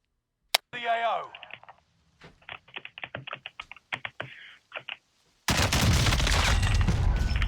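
Gunfire from a gunfight in the video game Warzone: scattered light clicks and pops first, then a loud, sustained burst of rapid fire to the end.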